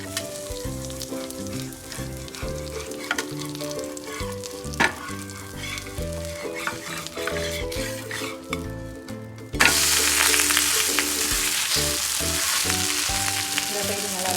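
Murungai keerai (drumstick leaf) adai dosai fries in oil on a pan with a steady sizzle. Background music plays over the first part, then a louder, broadband crackle of frying takes over near the end. No one speaks.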